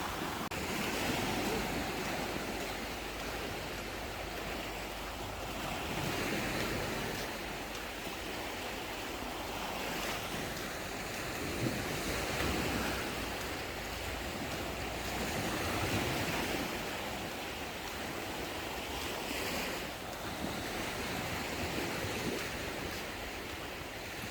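Waves wash steadily onto a beach on Koh Samet island in Thailand, a continuous broad surf roar with gentle swells, with some wind noise and no speech.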